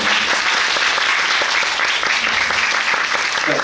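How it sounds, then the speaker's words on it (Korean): A theater audience applauds the actors of a stage play, with loud, dense clapping that fills the room and stays steady throughout. "항상 소개해 주신 배우들 전체적으로 박수 한번 부탁드리겠습니다"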